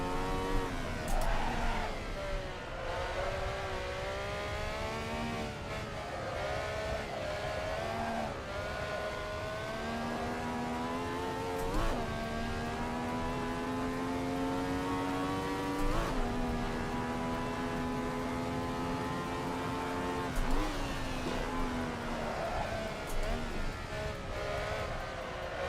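A Ferrari race car in a video game, its engine revving hard through rising gear pulls and shifts over a long stretch, steady and fairly close, with occasional tire squeal between the gear changes.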